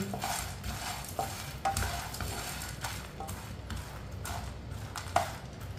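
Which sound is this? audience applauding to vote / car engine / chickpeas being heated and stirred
chickpeas being heated and stirred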